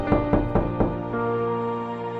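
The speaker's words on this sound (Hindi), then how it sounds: "तभी मेरी माँ परेशान होकर दरवाजे पर दस्तक देती है।" Four sharp knocks on a door in quick, uneven succession during the first second, followed by a sustained low tonal background drone, with no voices.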